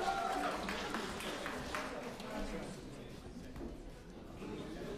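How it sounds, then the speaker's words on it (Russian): Audience at a birthday celebration event breaks into sustained, dense applause that holds steady and fairly loud throughout, mixed with crowd noise and some voices. "Под ваши бурные аплодисменты, Максим Поляков."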